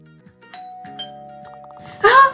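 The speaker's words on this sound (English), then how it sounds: "Ah, the bell just rang." A Roblox game doorbell chimes in a few clear tonal dings over a quiet game backdrop, followed by a brief burst of brighter noise.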